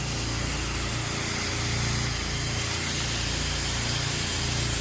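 A pressure washer sprays biodegradable cleaner across a residential driveway with a loud, steady hissing rush and a low motor hum running continuously underneath.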